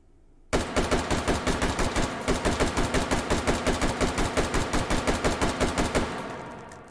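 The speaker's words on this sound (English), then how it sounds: "So I'm just gonna have to pull the trigger as fast as I can." Semi-automatic AR-15 short-barreled rifle in 5.56 NATO fired as fast as possible in H3VR, about thirty sharp, loud shots in a rapid, slightly uneven string lasting around five and a half seconds, ending with a short fading tail.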